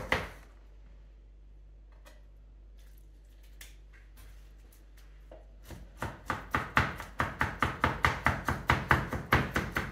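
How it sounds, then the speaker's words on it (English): A knife cross-chopping ingredients for whiting fish cakes on a board: a few scattered taps and handling sounds, then a fast, steady run of close, crisp chops for the last four seconds. "using a nice cross chop, making sure fingers are on top of the blade and fingers well out the way"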